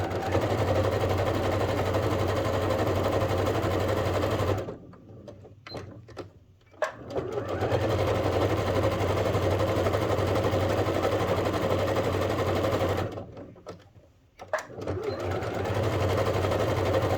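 A sewing machine stitches a seam on a sling bag, running in long steady bursts of rapid mechanical chatter, stopping twice briefly with small clicks and fabric handling before starting again, loud and close with no talking.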